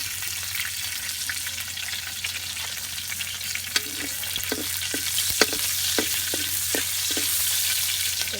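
Adobo with vinegar sautés in a pan, giving a steady, close hiss of frying food with irregular clicks and taps of stirring over it.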